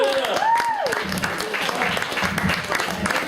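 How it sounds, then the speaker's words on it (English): Audience applause and cheering fill a stand-up comedy show, steady and continuous throughout, with voices mixed into the clapping. "Keep the round of applause going for Mr. Ken Lambert."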